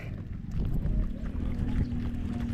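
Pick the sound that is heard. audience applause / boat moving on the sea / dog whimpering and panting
boat moving on the sea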